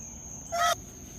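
A hen and a rooster fighting, a single loud, harsh squawk bursting out for a moment against a quiet background.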